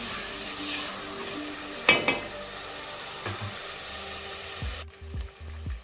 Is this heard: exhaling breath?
no